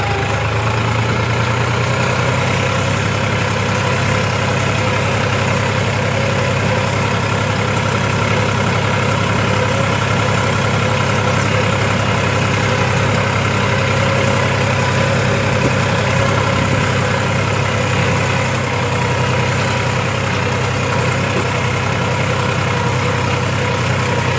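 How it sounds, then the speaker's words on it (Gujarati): A tractor engine idles at a steady low rumble, loud and close. It runs unbroken, with constant vibration throughout and no voices. "ટ્રેક્ટર લઈ લેતો નીતુ ટ્રેક્ટર લઈ લેતો"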